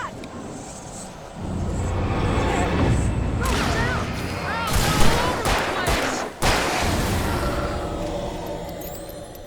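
Gunfire from the video game Alan Wake, a burst of sharp shots and cracks over a dense, loud action soundscape, with voices talking amid the commotion.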